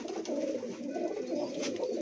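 Pigeons coo steadily in a rooftop loft, a dense overlapping murmur of calls close by that carries on throughout without pause.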